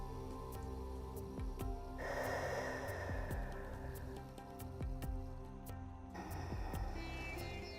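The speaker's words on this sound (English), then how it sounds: "keep engaging the Ujjayi breath by contracting your throat" Slow, deep Ujjayi breaths drawn through a contracted throat during a yoga session for the shoulders, heard as two long, soft, hissing rushes of air over a steady, quiet musical background.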